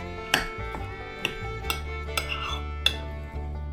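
A spoon clinks and scrapes against a dish while sausage casserole ingredients with tomatoes and rice are stirred, about six sharp taps spaced irregularly over a low steady background hum.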